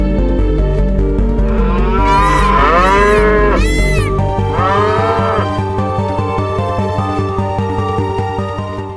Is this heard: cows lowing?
yes